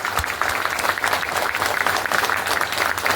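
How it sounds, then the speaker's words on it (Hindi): A seminar audience in Thane applauds loudly and continuously, a dense wash of many hands clapping at once that stays full and close for the whole stretch. "तो एक जोरदार तालियों से आज के सेमिनार का शुरुआत करेंगे।"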